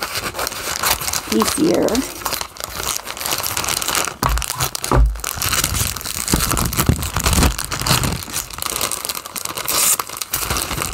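Craft haul packaging from a Hobby Lobby paper studio sale is cut and pulled open, giving loud crinkling, crunching and tearing rustles while a person talks over it.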